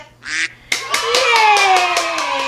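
A duck gives a run of loud, close quacks, one short call followed by a steady string of repeated nasal quacks that fall slightly in pitch, with no other sound around them.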